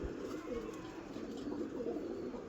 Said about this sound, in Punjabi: ਸਰ ਬਹੁਤ ਤਕੜਾ ਕਬੂਤਰ ਹੈ ਜਨਾਬ